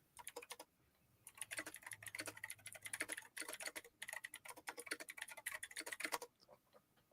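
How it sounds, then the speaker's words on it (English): Rapid typing on a computer keyboard, close and crisp, with dense bursts of key clicks broken by a few short pauses and no talking. "I'm typing too fast."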